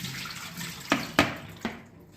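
Grated potato rinsed in a bowl of water until it runs clear: three close, sharp splashes roughly a quarter to half second apart over a soft watery background, with no talking.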